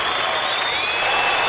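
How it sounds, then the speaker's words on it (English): Crowd applauding and cheering at the X Games in Sydney, Australia, a steady wash of clapping from a large audience, distant and continuous throughout. "The GM clapping for Jake"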